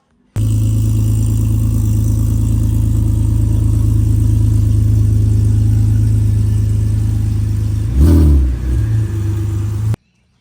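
A car fitted with a new steering angle kit drives with its engine droning loudly and steadily close by, then briefly revs and surges near the end before settling again.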